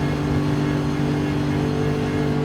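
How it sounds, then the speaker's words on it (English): A Lexus race car engine on board in Gran Turismo 7, a loud, steady, sustained engine drone with strong tonal harmonics holding at constant revs, no one speaking. "Let's go on board with the lovely sounding Lexus."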